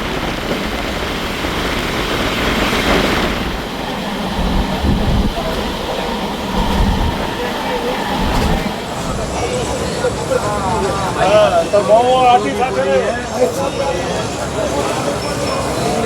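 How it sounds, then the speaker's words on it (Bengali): Train 13018, the Azimganj to Howrah Ganadevata Express, pulls into a station at night, a steady rumble and rolling clatter filling the clip, with a screech of brakes near the end and voices talking over it. "সামনে দিয়ে চলে আসছে ট্রেন নাম্বার 13018 আজিমগঞ্জ থেকে হাওড়া গণদেবতা এক্সপ্রেস"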